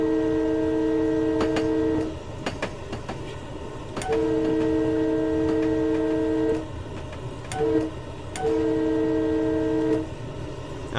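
A locomotive horn in Train Simulator 2020 on the New Canaan Branch sounds a grade-crossing sequence: long blasts, then a short toot, then another long blast. The horn sits over steady rumbling rail noise and clicking wheels.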